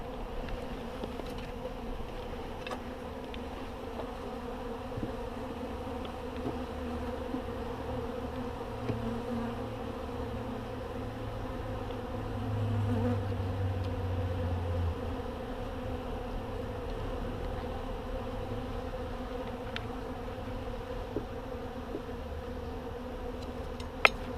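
Honey bees swarm around an open hive during an autumn inspection, a steady, dense buzzing of many flying insects that holds evenly throughout with no talking.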